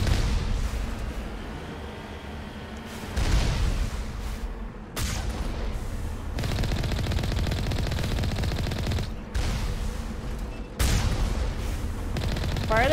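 Turret gunfire in the video game Mass Effect rattles in dense, sustained bursts with short breaks and booming impacts, loud and continuous throughout.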